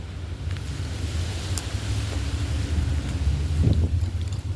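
Strong outdoor wind buffeting a microphone, a steady low roaring rush with gusty swells that grows louder toward the end, with no voices.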